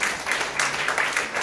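A church congregation claps together in a short burst of applause, close and fairly lively with uneven pulses of hands.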